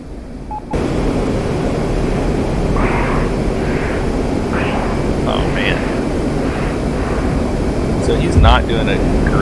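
F-15 fighter jet in the DCS flight simulator game gives a steady, loud roaring engine drone throughout, with brief tonal beeps and a short thump near the end.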